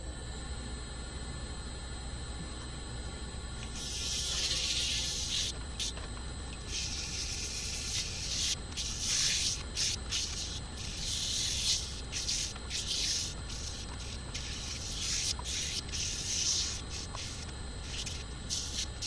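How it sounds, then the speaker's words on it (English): Steady rubbing and rasping of wet sandpaper against cherry wood spinning on a lathe, with a constant low machine hum and bursts of brighter scratching throughout. "move on to some wet sanding."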